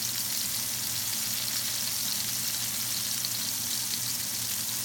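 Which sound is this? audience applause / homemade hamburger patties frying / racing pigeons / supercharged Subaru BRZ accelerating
homemade hamburger patties frying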